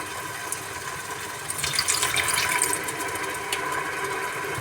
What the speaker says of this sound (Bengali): এখন দিয়ে দেব সামান্য পরিমাণ পানি